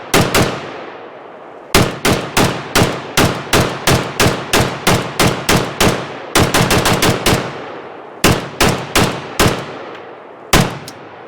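A Chinese Type 56-2 rifle fires Polish 7.62x39mm Grom ammunition outdoors, a long run of loud, sharp shots in rapid strings with brief gaps and ringing echo tails.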